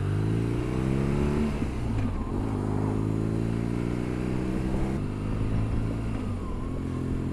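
A BMW GS motorcycle rides along country roads toward Finchingfield, its engine holding a steady, loud, close drone throughout with a slight dip in pitch partway before settling back into a constant cruise.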